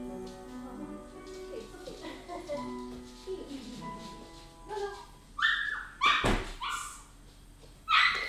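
Dog whimpering in the video game Beacon Pines, a series of soft whines and yips building into sharper high cries, with a voice talking in between.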